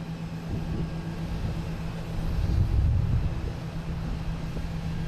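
An American Eagle Embraer ERJ jet at Boston Logan gives a low, rumbling engine drone that swells to a peak mid-way and then eases off slightly.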